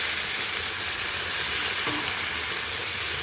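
Oyster sauce being stirred into a chilli garlic mix, with tomato paste, for a chilli garlic squid dish hisses loudly and continuously in a hot pan, a dense close-up frying roar with faint stirring under it.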